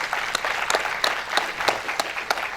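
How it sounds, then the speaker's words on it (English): Audience applause at a business convention hall, a steady wash of many hands clapping with sharper individual claps standing out, moderately loud and continuous throughout. "I think they deserve a huge round of applause."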